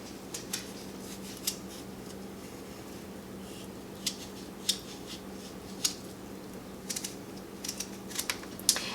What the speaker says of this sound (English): And then you're going to peel your pumpkin.